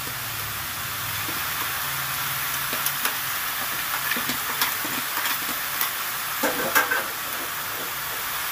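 Fried potatoes and lentil dumplings stirred through greens in a frying pan, a continuous sizzle with repeated spatula scrapes and clinks, close up and fairly loud.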